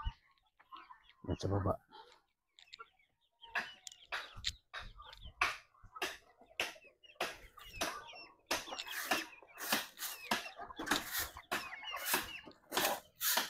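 Farmyard chickens cluck in short, repeated bursts that grow busier and denser toward the end, heard close by with a brief spoken phrase near the start.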